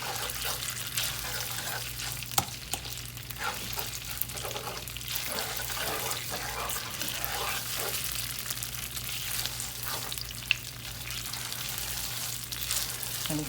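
Tomato paste frying in a pot for Haitian stewed tilapia sauce, a soft, steady sizzle and crackle with occasional spoon knocks, quiet and continuous.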